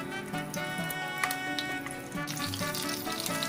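Stuffed red chillies dropped one by one into hot mustard oil in a wok, giving a steady, dense sizzle and crackle of frying without pause.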